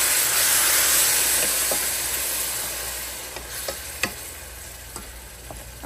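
Garlic paste, salt and turmeric sizzling steadily in a hot pan while being stirred, a constant frying hiss with a few soft scraping clicks of the spoon, close and fairly loud, gradually easing.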